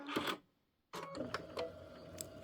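A sewing machine stitching a pieced quilt block trims its thread, a brief mechanical whir and clack, then a short pause before a steady motorized hum with clicking resumes close by.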